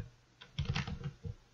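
A few quick keystrokes on a computer keyboard while entering custom dimensions in a web-based editor: a short, soft burst of clicks, close and quiet, with a brief gap before one last tap.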